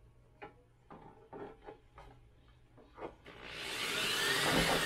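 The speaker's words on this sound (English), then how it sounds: "I'm going to get some pilot holes drilled." A small drill boring pilot holes into the scale interior of a Traxxas TRX4 Ford Bronco RC truck, first a few short taps, then a steady, rising whir that runs on near and loud.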